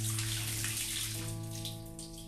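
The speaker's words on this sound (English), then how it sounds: "So we water the flowers." Flowers being watered in the video game Homesick: a steady stream of water pours continuously for a couple of seconds under a soft, sustained musical tone, with no talking.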